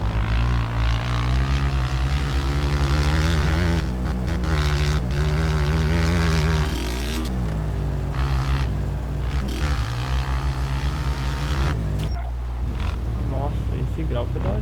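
A Titan 160 motorcycle in the video game MX Bikes roars loudly and continuously, its engine pitch surging up and down as it is revved, with someone talking excitedly over it.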